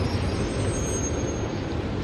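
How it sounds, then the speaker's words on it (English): A train arrives at a station, a continuous low rumble of wheels and carriages with a faint high squeal above, steady and fairly close, no talking. "the train is coming. It's going to Mento."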